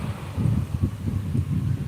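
Steady low rumbling wind buffeting outdoors, a continuous gusty roar with no voices.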